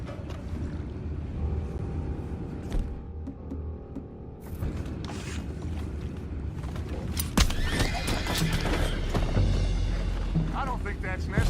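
Horses whinny and neigh amid clip-clopping hooves in Red Dead Redemption 2, with background game ambience and a rising rumble; moderately loud, several distinct whinnies toward the end.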